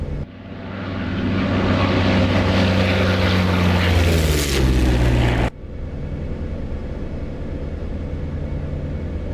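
A P-47 Thunderbolt's radial piston engine roars at full throttle in the DCS World flight simulator, a loud, steady drone that swells slightly before cutting abruptly to a quieter, muffled engine hum.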